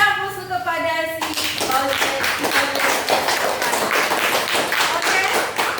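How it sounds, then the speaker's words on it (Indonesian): Students in a classroom break into applause, a dense rhythmic clatter of many hands clapping that starts after a brief moment of sung or spoken tones and continues loudly and steadily to the end. "Beri aplaus"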